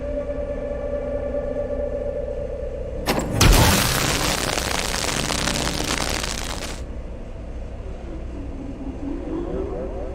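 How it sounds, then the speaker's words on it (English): Pneumatic cannon in the video game We Happy Few fires once with a loud, sudden booming blast of air that roars for several seconds, then cuts off over a steady hum of background game music. "Very clever, pointing the pneumatic cannon right at my office."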